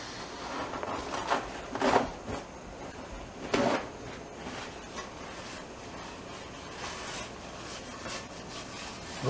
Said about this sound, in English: Wipe the pan down. We want to get all the fat out of here.